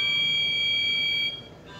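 A ship's off course alarm sounds on autopilot steering, a steady high electronic tone held for over a second, then cutting out and giving way to fainter beeping.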